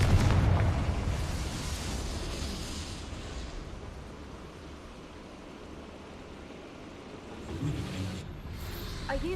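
A Confringo fire spell in Hogwarts Legacy erupts into a loud blast at the start, then a rushing, crackling roar that slowly fades into a hollow rumble, with a smaller burst near the end.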